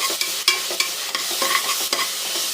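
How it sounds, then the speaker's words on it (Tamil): Onions with ginger-garlic paste sautéed and stirred in a pan for vegetable biryani: bright, crackling sizzle under repeated close spatula scrapes that come in a loose rhythm. No talk is heard. "அதை ஆட் பண்ணி நல்லா வதக்கலாம்."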